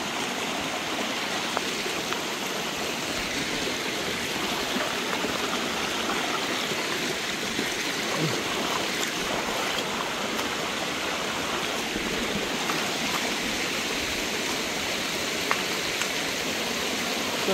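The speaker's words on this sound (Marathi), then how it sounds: "पाणी येते मस्त की" A water stream flows steadily at Kondhane Caves, a dense, even rushing wash that stays constant and close throughout, with no talking.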